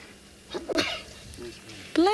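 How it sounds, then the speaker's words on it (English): A single sharp sneeze bursts out near the end, after a stretch of quiet background noise and faint earlier sounds, close and fairly loud, during an afternoon safari in South Africa. "I sneeze a lot."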